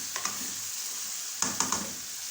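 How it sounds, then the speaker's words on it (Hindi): Spiced paste frying in a pan for shahi chicken korma makes a steady sizzle, broken by a few quick scraping clicks as it is stirred near the start and again around the middle. "अब इसको हम फ्राई करेंगे। इस तरह से 2 से 3 मिनट तक हम इसकी बुनाई करेंगे"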